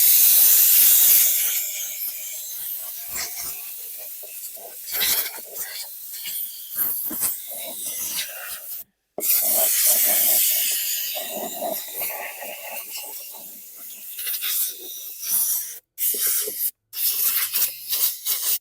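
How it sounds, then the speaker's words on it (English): Compressed air hisses in loud bursts as dust is blown off a 2015 Troy-Bilt TB230 self-propelled lawn mower, with sharp starts, brief silent breaks and a voice in between. "Let me blast some of this dust off"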